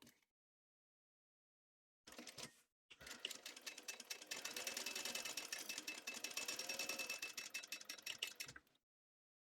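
A sewing machine stitches in a short burst, then runs steadily for several seconds as a rapid, close, mechanical rattle, with silence before and after.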